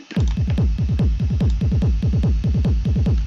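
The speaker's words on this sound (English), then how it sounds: "It's the same kick drum, just absolutely, that's why it's called a gallop. It's just absolutely galloping along." A galloping hard techno kick drum pattern programmed in Ableton, booming kicks in a rapid, driving triplet-like gallop, loud and continuous with no voices.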